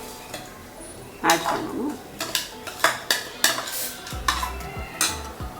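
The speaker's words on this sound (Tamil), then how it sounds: "then we need to mix salt with rice" Salt being stirred into basmati rice in a pot for chicken biryani: a spoon scrapes and clinks against the metal in about eight steady, rhythmic strokes, close and fairly loud, with a brief voice speaking over it.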